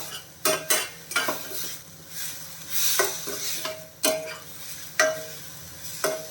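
Vermicelli with grated coconut stirred in a pan, a spoon scraping and clinking against the metal in repeated strokes over a faint sizzle, close and fairly loud with no talking.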